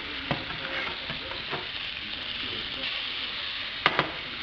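Thin yellowtail pieces fry in butter in a pan with a steady close sizzle throughout, a few soft clicks as pieces are flipped, and a sharper clatter near the end.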